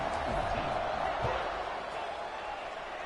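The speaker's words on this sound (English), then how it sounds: "this crowd now ready to get behind them" Stadium crowd in a college football video game before kickoff at a Boise State at Arizona State game: a broad, steady roar of crowd noise with a faint thump early on and a low voice beneath it.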